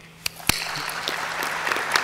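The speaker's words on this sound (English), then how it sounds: "Could we have a round of applause?" Applause begins at a fuel cell seminar, a few sharp isolated claps quickly building into a fuller, steady round from the conference audience.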